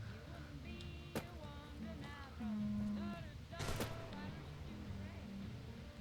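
A tripwire trap fires a gun in Fallout: New Vegas, giving a sharp crack early on and a louder, heavier bang a few seconds later, both cutting through steady in-game background sound.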